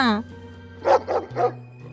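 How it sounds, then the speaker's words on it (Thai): A dog near the Bang Pakong bridge lets out three loud, close barks in quick succession over a low steady hum, after a brief high whine at the start. "หมาเห่าอะไรเสียงดังเนี่ย"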